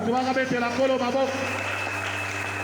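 A church congregation applauds and cheers during a French-language sermon, a short burst of clapping mixed with voices that fades into a steady hum.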